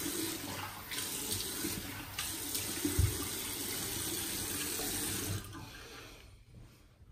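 Water from a bathroom tap runs in a steady, close splash while a man wets his face for a wet shave, then cuts off near the end, leaving quiet.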